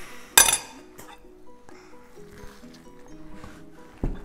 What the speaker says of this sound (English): And now I'm mixing it.